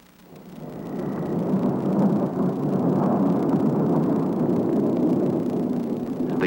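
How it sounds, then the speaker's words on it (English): A broad, steady rumble of wind and pouring rain swells up and holds, dense and enveloping, with no distinct thunderclaps standing out. "The onset of a thunderstorm almost always includes strong gusts of wind and heavy rain."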